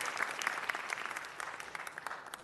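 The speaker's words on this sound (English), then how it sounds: "let's give our sponsors a louder applause" Audience at a city council meeting applauding sponsors, steady dense clapping throughout with scattered louder individual claps, moderately distant and alone without talk.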